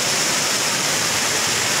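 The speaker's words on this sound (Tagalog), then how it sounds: "Calaanan Falls!" Calaanan Falls roaring loud and close, a dense unbroken wash of falling water filling the short moment.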